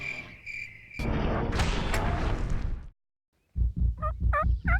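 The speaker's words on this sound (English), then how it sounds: "the reluctant tom, gobbling just beyond the horizon" A wild turkey tom gobbles out in the field, a series of sharp rattling bursts after a stretch of broadband noise and a short silence, fairly close and clear with no talk.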